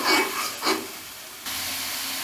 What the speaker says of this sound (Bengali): এখন ভাজা ভাজা করে নেব